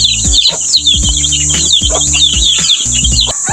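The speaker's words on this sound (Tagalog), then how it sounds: "Ganyan po yung mga new breed po natin, yung mga heritage chicken." A flock of heritage chickens clucks and chirps continuously and close by, with overlapping calls and a constant high chirping of young birds in the background.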